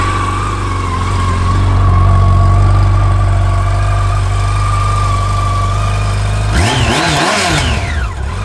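A 2016 Yamaha FJR 1300 motorcycle engine runs at a steady idle for most of the clip, loud and close, then rises briefly in pitch near the end as the throttle is blipped.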